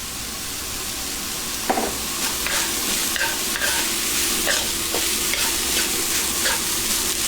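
Chicken sisig sizzling steadily in a pan with soy sauce and ground pepper, accompanied by repeated scraping and stirring strokes at an even pace, close and moderately loud.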